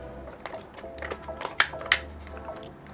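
Plastic stands on an HP Keyboard 100 flip up with two sharp, close clicks over soft handling noise.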